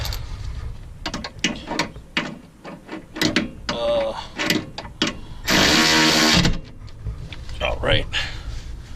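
A hand ratchet tightens a bolt on a Skunk2 lower control arm on a car's suspension, with rapid mechanical clicks in short bursts and one sustained stretch of fast ratcheting, close by.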